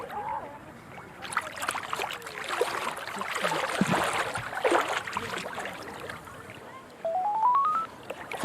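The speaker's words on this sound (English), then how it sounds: "Phone." A phone rings on the Dead Sea shore in Jordan, a short run of rising electronic tones near the end, heard over steady water and outdoor background noise with people talking.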